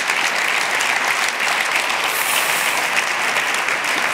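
A conference audience at an education awards ceremony applauds steadily, a full, even sheet of clapping that holds at a constant level from start to finish.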